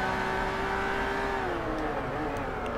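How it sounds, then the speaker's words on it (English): A race car circles the Sedona track in the video game Forza Motorsport 3, its engine droning at a loud, close, sustained pitch that eases and drops slightly as the car settles into a turn. "it's been a fun 15 minutes here just driving around this track"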